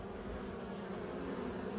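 Honey bees from a swarm trap hum inside a bucket, a continuous close buzzing drone, low and steady with no voices.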